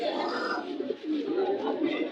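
An old-breed pigeon coos softly and continuously at a busy Bangladeshi pigeon market, close by, amid steady crowd murmur and background voices.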